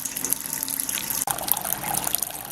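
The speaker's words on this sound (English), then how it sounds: "Fill in our brew pot." Tap water pours steadily into a home brewing pot with a constant rushing gush and brief splashy surges, close and continuous and heard alone.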